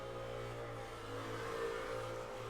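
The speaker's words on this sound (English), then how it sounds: "Motorbike going by." A motorbike engine hums steadily at a distance, a sustained mid-pitched drone that holds without much change, used as a passing sound effect.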